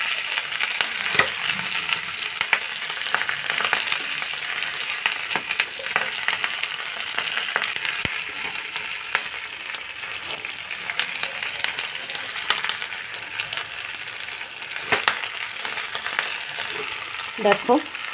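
Fish paturi parcels of bhetki wrapped for steaming fry in a pan over low heat, a steady close crackling sizzle running throughout with occasional sharper pops and faint clinks, and no talking.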